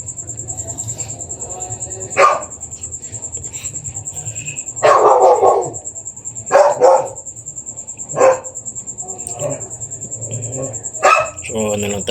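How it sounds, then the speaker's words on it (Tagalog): A dog barks nearby in short, spaced bursts of one or two barks at a time, loud and close, with quiet stretches and a constant background hum between them. "pagpasensya nyo na yung ingay ng aso ko"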